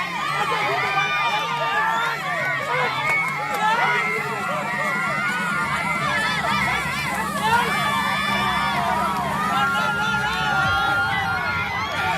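A crowd roars and cheers continuously at the women's tug of war final between Kokkada A and Kokkada B, with dense shouting and excited voices close around.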